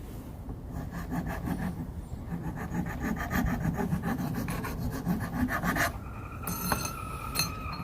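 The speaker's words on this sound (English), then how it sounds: "going back and doing some hand filing here" Hand filing a knife blade while making Otzi knives: a steady back-and-forth rasping with regular strokes, close and continuous, turning brighter and scrapier near the end.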